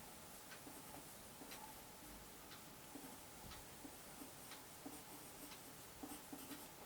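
Pen or chalk writing axis labels on a graph, faint scratchy strokes and small taps spaced irregularly over a quiet room hiss, with no talking.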